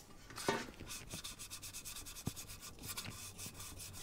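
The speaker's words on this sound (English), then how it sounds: "all that really is left to do is just to sand it really good." Dried spot putty being sanded on a Torino shift plate, a steady close scratchy rubbing in quick back-and-forth strokes with a few sharper scrapes, no talking.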